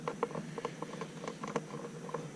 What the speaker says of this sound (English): hear that? Clip into place.